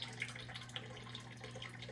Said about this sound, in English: this pump is just sucking out the bad water